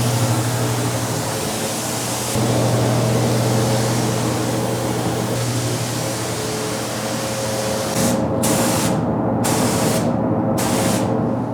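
A spray gun applies paint to a 1972 International Scout during a full paint job, giving a loud continuous hiss of spraying air with a compressor drone underneath, cut by a few short pauses toward the end.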